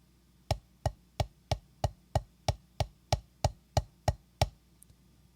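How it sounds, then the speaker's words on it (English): Drum strokes played as a combined sticking pattern of singles, doubles and triples, about fourteen sharp, evenly spaced hits with a brief ringing tone, close and alone with no talking. "Now let's combine singles, doubles, and triples in sequence."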